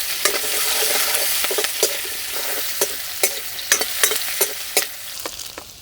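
Capsicum and onions fry in a couple of spoons of oil, with a hissing sizzle and a run of sharp scraping clicks from a spoon stirring in the pan, the clicks growing more frequent toward the end.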